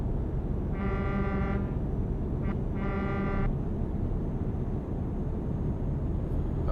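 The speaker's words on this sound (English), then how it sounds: "I do have air horns, look" Two long, loud horn blasts from a truck's air horns in Euro Truck Simulator 2, the first about a second long and the second slightly longer after a short stab, over steady engine and road rumble.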